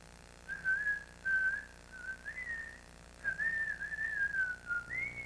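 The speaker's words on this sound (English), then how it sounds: "Listen to that kid whistle" A 7-year-old child whistles a wandering, high, clear melody in several phrases with short pauses, close and fairly loud over faint background hiss, recorded on VHS.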